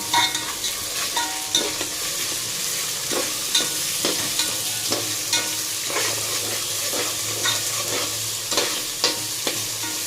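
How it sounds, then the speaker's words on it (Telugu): Fish curry with ginger paste stirred in a pan, a spoon scraping in steady repeated strokes over a constant loud sizzle, close up with no talking. "ఇది కొంచెం పచ్చి వాసన పోయేదాకా కొంచెం తిప్పుకుందామండి."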